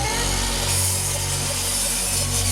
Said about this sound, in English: So the shelving will be cut to 31 inches in length.